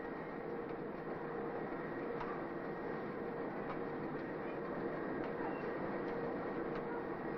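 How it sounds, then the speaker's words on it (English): A clay mug factory machine wiping the tops of soft clay mugs runs with a steady, dense mechanical whirr and faint periodic clicks, continuous and unchanging throughout at moderate loudness. "This machine wipes the top of the mugs."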